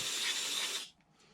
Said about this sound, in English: I like to open it up here, spray that inside out.